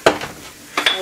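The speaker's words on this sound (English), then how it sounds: "I'm stirring." Lasagna filling gets stirred in a pot for quinoa lasagna, two sharp clinks of a utensil against the pot about three-quarters of a second apart, close and crisp over quiet background.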